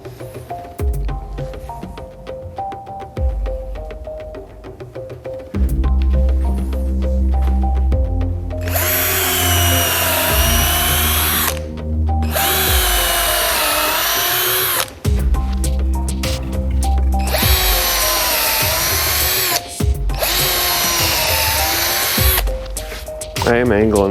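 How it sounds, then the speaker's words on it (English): A power drill whirs loudly in several long bursts, the pitch shifting as the bit bores into wood, with short pauses between runs. "I am angling this drill pilot hole a little bit"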